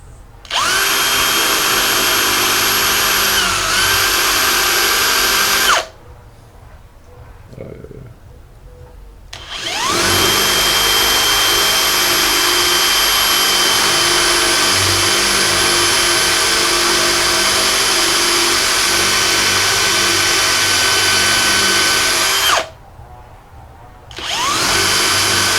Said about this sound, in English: It feels so weird to drill in this.